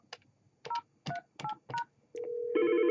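Four keypad tones dialed on a Yealink T41P desk phone, short evenly spaced beeps, followed by a steady ringback tone that shifts into a louder two-tone ring, close and clear with no talking.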